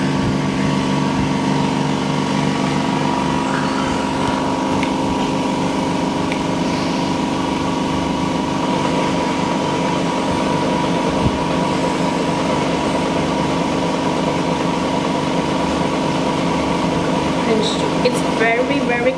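A Niansheng V9 Velashape vacuum cavitation slimming machine runs with a steady, dense mechanical hum and whir for the whole time. The sound stays even and close, and a person talks over it.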